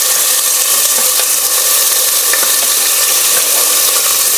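Onions added to hot oil for a South Indian brinjal curry hiss in a loud, dense, continuous sizzle, close and unbroken, with no talking.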